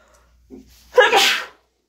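A single sharp sneeze bursts out close and loud, preceded by a brief soft intake of breath, then quiet.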